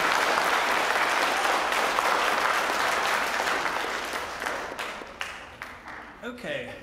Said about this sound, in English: let's give them another round of applause for everyone.